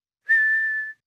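A cartoon character from Peppa Pig whistles one short, small, steady tone that starts cleanly, holds evenly and stops abruptly, heard alone and close with no talk.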